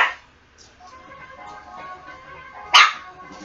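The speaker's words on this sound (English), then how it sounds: "Stupid pup. Always barking at me." A dog barks in a Donkey Kong Country 2: Diddy's Kong Quest game, two short yaps about three seconds apart against quiet background sound.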